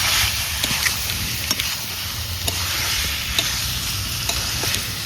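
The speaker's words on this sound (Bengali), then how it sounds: "চিকেনটা ঠিক আস্তে আস্তে আস্তে করে বিনা জলে কিন্তু কষাবো।" Chicken being stirred and sautéed in a dry pan with no water gives a loud, continuous sizzle and crackle. Occasional sharp scrapes and taps from the stirring utensil cut through it.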